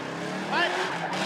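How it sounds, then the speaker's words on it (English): Tires briefly squeal as cars drift during spectator drag racing at Rockford Speedway, a short rising screech over steady engine and crowd noise while an announcer talks. "They're drifting."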